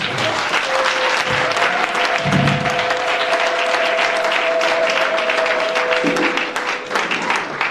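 A crowd at a religious gathering applauds and cheers for Jesus, with steady sustained clapping, a long held tone running through the middle, and brief low thumps near the start and end.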